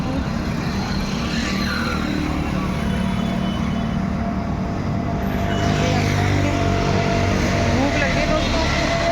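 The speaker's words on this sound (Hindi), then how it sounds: "यहाँ पे ना गाड़ियाँ चल रही हैं बहुत ज़्यादा" Heavy road traffic streams past at close range, a dense, unbroken roar of cars and trucks with passing engine swells, and someone talks over the noise.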